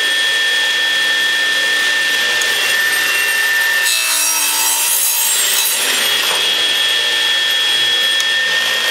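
A handsaw cuts a lap joint into a wooden board with steady, rhythmic rasping strokes, close and fairly loud, with no talking.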